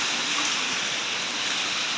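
Heavy rain at night falling everywhere outside a hotel, a dense, steady roar of downpour with no pauses and no voices.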